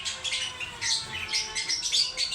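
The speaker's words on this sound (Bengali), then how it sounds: "লুটিনো বাজিগার।" A red-eyed lutino budgerigar gives continuous bright chirps and twitters close by, a busy stream of high calls with no talking.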